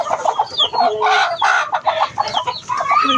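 Hens cluck steadily in a lively overlapping chorus, close by, with repeated short calls and no talking.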